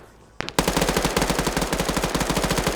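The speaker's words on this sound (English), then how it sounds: "And returns fire and kills Logan." Rapid automatic gunfire from a team video game firefight, a short burst of single shots then a sustained loud stream of evenly spaced rounds with no talking.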